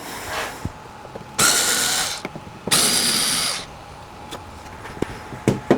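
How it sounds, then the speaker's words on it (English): A Black & Decker power driver removes screws from an old door fitting, with two sustained whirring bursts of a second or more each and quieter clicks and ratcheting between them, close to the mic, with no talk. "This little Black & Decker thing is really torquey, by the way."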